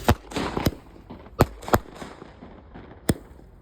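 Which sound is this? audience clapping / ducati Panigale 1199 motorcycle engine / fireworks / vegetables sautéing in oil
fireworks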